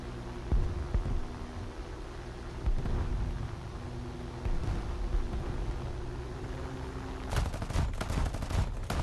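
Cannon fire booms in the video game War Thunder, with heavy low thumps spread across a noisy battle bed and a fast rattling volley of rapid shots near the end.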